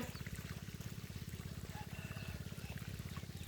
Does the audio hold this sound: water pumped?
yes